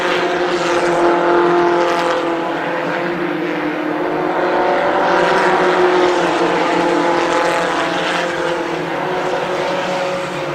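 Race cars roar around the oval at Columbus Motor Speedway during a main event, a loud, continuous wall of engine noise from several cars running close together, with steady revving throughout.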